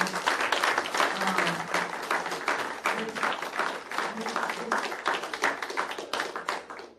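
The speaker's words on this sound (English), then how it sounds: "Let's give them a round of applause" An audience at a presentation gives a round of applause, close, uneven clapping with distinct individual claps that trails off at the end.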